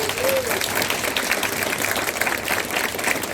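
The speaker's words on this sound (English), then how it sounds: "So if we could give them a round of applause." Dense applause from a room full of people, steady and fairly loud from start to finish.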